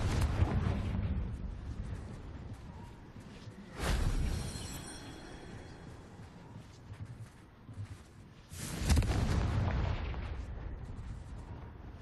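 Confringo blasting spell exploding in Hogwarts Legacy played on Switch 2: two loud bursting booms with rushing whooshes over a dense rumbling game soundscape, no talk.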